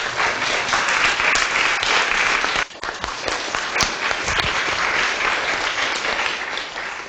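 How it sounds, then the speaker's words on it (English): A seated audience at a science institute welcome session gives a sustained round of applause, loud and even with a brief dip partway through. "We need a round of applause for each name"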